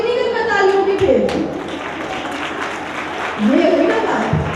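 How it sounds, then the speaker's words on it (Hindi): Applause from an audience at a dance competition in Ghazipur, a dense spread of hand clapping running under a voice speaking through a loud PA, swelling again toward the end. "तो एक बार जोरदार तालियां सर के लिए।"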